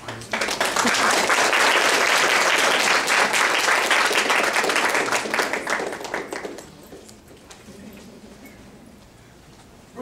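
A lecture audience breaks into loud, sustained applause to welcome a speaker, dense clapping that gradually thins and fades into scattered claps and a quiet room.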